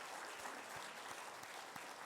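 A church congregation applauds during a Sunday worship service, a soft, distant, continuous wash of many hands clapping with no voices over it.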